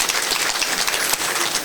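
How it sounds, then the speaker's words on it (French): Audience applause at a trade-union symposium for Senelec on Labour Day, a steady dense wash of clapping throughout the short stretch with no voices over it. "que je vous demande d'applaudir très fort"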